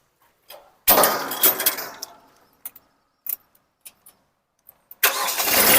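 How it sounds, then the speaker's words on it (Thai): A used small farm-style car's engine cranks and catches loudly, then fades out, followed by scattered clicks and knocks before the engine starts and runs again at the end. "เดี๋ยวเรามาดูเสียงเครื่องรถยนต์กันเลยนะครับ"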